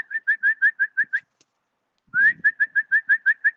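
A bird on a live pigeon cam gives two runs of quick, repeated whistled notes, about eight evenly spaced in each, separated by a brief silence, close and clear.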